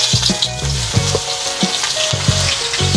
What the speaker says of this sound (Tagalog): So ilalagay na po natin siya sa mainit na mantika